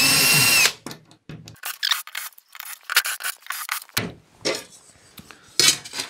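Power drill unscrewing fasteners during work on a homemade copper manifold, with a brief loud whir at the start followed by scattered clinks, scrapes and clatter of parts being handled close by.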